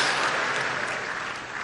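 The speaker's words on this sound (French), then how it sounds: "Est-ce qu'on peut applaudir?" A stadium crowd applauds at a football match, a dense, steady wash of clapping that holds evenly throughout.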